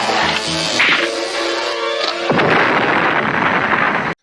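A loud blast from a C4-packed remote-controlled toy car exploding at a house in a 1988 action film, a sharp crack followed by a sustained roaring debris wash amid film sound and music.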